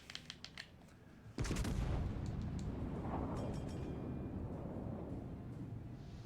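Warship guns firing in the World of Warships Legends naval combat game: a few soft thuds, then a sudden loud blast at about 1.4 s that turns into a dense, sustained rumble of gunfire and explosions lasting to the end.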